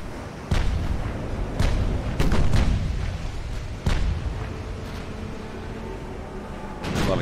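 Naval artillery salvos from a light cruiser battling battleships in the game Ultimate Admiral: Dreadnoughts: repeated deep booming gunshots, some in quick pairs, roll out over a constant low rumble, with no talk.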